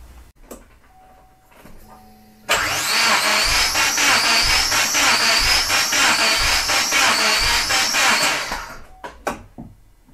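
A Subaru EJ257 engine cranking on the starter during a compression test, a loud close whirring grind that runs steadily for about six seconds after some faint clicks, then stops.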